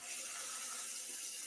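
A tap runs steadily at a workbench sink, a continuous close hiss of flowing water with no talk.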